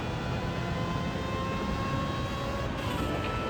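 Honda S800 with a motorcycle engine swap racing at Le Mans in Gran Turismo 7, a steady high-pitched engine whine held at speed, loud and continuous without talk.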